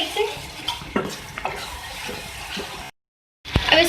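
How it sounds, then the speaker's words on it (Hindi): Spoon stirring chicken liver karahi with black pepper and garam masala, scraping in a sizzling pan with a few sharp clatters over a steady fry, then a brief cut to silence before more stirring. "तो हम डाल के थोड़ा सा और कुक कर लेंगे मिक्स करके सही से।"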